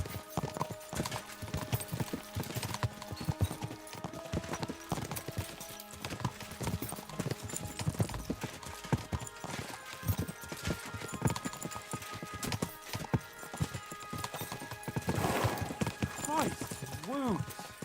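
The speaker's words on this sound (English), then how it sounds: "We should spur the horses on." Horses' hooves clip-clop steadily on a road in the medieval video game Kingdom Come: Deliverance 2, a brisk rhythmic trot of several animals with a brief whinny, under character dialogue and a soft musical bed.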